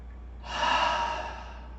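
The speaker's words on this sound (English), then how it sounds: "Then open mouth exhale," A single open-mouth exhale during yoga breathing in a vinyasa class: a soft, breathy whoosh of air released close by, rising quickly and then fading gently over about a second against quiet room tone.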